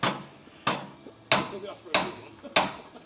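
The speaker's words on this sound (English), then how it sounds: "Ideally, you want a block of wood over the outside with a big hammer." A big hammer strikes a part on a rusty Ford Ranger chassis, five heavy, evenly spaced metallic blows each ringing briefly before fading, close and loud in a workshop.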